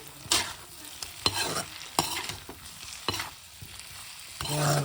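Chicken with coriander powder frying in a pan is stirred with a utensil, giving repeated scraping strokes at an uneven rhythm over a soft background sizzle.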